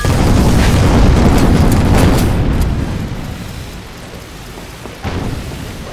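The main gun of a steampunk airship fires in Guns of Icarus, a heavy rumbling blast that rolls and fades over a few seconds, followed by a second, smaller thud.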